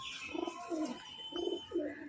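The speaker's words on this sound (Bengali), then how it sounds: "সবুজ একটা মাদি পায়রা এবারে দেখাবো" A green female pigeon coos softly: a few low, rounded coos repeated in short pulses, fairly faint and close, with no other sounds competing.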